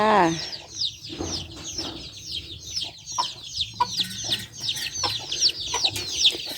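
A flock of chickens on a family farm clucking and squawking continuously at close range, busy overlapping calls filling the whole stretch.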